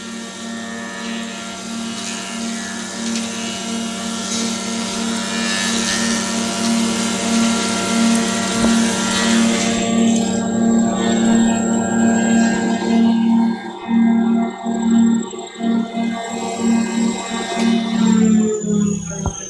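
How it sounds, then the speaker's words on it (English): A Weinig Profimat 50 manual moulder machines a small piece of crown molding: a loud, sustained industrial whine and roar that continues throughout, thinning slightly toward the end, with no voices. "we're running a little piece of crown molding on this machine"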